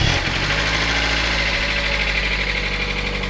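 A Mazda Miata engine catches at the start and then runs at a steady, loud idle with a low rumble and slight vibration, close by and without talk.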